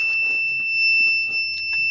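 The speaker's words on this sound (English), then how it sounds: "the buzzer is on" A home security system's alarm buzzer sounds after a PIR sensor detects movement in armed premises, giving a steady, piercing high electronic tone that holds continuously at close range over faint background noise.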